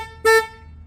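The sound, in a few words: car horn honking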